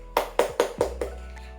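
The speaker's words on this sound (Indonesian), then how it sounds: "Ayo beri tepuk tangan pada Rani" Five slow, evenly spaced claps ring out close by in a classroom, each one distinct, with the last fading softer and no talking over them.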